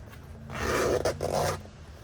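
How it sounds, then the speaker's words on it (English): A Jeep Wrangler seat cover zipper being pulled closed in two quick strokes, a raspy scraping pull, a brief pause, then another pull, close up with a low hum underneath. "And then you can zip it up."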